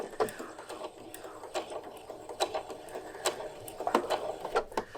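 A sewing machine stitches around a point in fabric, giving irregular light clicking and tapping in short bursts at a modest level close by.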